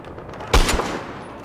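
A single loud gunshot from a Barrett M82 rifle in Battlefield Hardline, a sharp boom that tails off briefly against a steady background hum.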